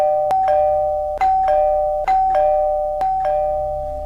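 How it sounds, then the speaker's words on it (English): A two-tone electronic doorbell chimes over and over in a steady cycle, each ding-dong following right after the last, clear and close. "helplessly listening to the ceaseless ringing of the doorbells"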